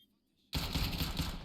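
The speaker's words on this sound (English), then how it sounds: "Oh, headshot onto Bobso" Gunfire in Counter-Strike on the Inferno map during an ESEA match, ending in a headshot. After near silence, a sudden loud, dense burst of shots erupts and keeps roaring without a break.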